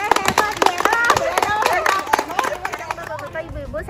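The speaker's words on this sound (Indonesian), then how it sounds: "Ya bagus, boleh kasih tepuk tangan semuanya." A group of community members at an Indonesian environmental health outreach session breaks into a short burst of clapping, mixed with crowd chatter and a voice speaking loudly over it.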